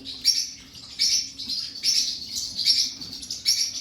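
Young chicks in a coop chirp in quick, high bursts that repeat roughly every second, fairly close and clear over a faint low background hum.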